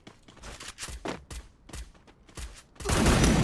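Gunfire in a video game, fired by a player shooting from inside the gas zone: a burst of sharp shots in quick uneven succession, then a louder sustained blast of noise at the end.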